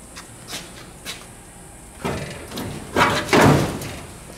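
Door of a 1931 Pierce Arrow land speed car with an unusual double-plated hinge mechanism being opened: a few light clicks, then heavier mechanical clunks and rattles building up, loud and close.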